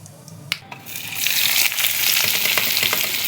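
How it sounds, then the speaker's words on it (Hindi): Onions and spices hit hot oil for tempering and burst into a loud, steady sizzle of frying after a brief clatter, crackling close by with no voices. "अनियन काट लिया है मैंने एंड बस मुझे छौंका मारना है"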